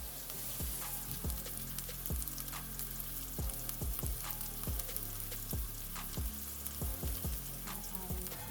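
Ground turkey sizzles steadily in a hot pan, a constant crackling fry broken by regular scraping strokes of a utensil stirring the meat, close and fairly quiet, with no talking.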